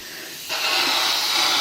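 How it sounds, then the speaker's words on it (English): A pressure cooker holding homemade chicken chasseur starts venting steam, jumping from a quiet background into a loud, steady hiss that holds without pause. "when it stops fizzing, because that's all the steam that's coming off it"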